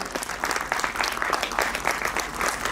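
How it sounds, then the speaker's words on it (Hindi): A crowd at an inaugural event for IGL and PNGRB, a Government of India event, keeps up dense, continuous applause with steady clapping throughout. "इसी के साथ साथ जोरदार तालियां हो जाएं हमारे"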